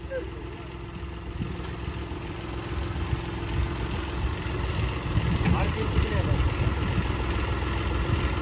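A brand-new John Deere 5310 tractor fitted with a backhoe loader idles at low RPM, its steady low engine rumble continuous throughout with faint background talk.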